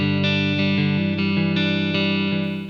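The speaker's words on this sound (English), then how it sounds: "And I could put on the reverb, put on like a plate." A digital guitar amp with plate reverb set, loud sustained chords ringing out with a lush wash that carries over each change, steady and alone with no talking.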